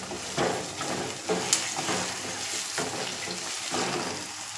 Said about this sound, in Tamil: அந்த பூண்டு எண்ணெயிலேயே நல்லா வெந்து வரணும்